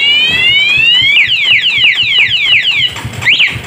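A Bohante alarm module fitted to a Honda CB150R motorcycle wails loudly, rising sweeps giving way to a rapid series of repeated descending chirps, then a brief pause and another sweep, close and dominant.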